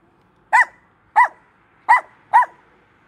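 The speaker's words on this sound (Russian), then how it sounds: "Ой, какая злая собака." A dog barks fiercely in five evenly spaced sharp barks about every 0.6 seconds, each loud and close with a rough growling edge, with quiet pauses between and no talking.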